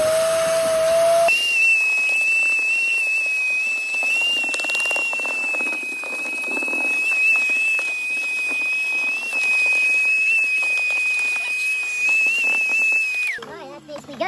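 A steam cleaner blasts a continuous high, whistling hiss into a car interior during a full detail, loud and unbroken for over ten seconds before cutting off with a short sputter.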